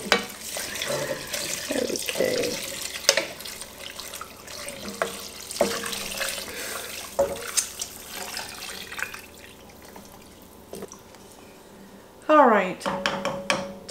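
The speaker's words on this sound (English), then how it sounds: "Now we're going to add rice, salt, and this great broth." Broth is poured into a soup pot with carrots and rice, giving a steady close splashing, running-liquid wash that tapers off, followed by a few clanks of the pot and utensils.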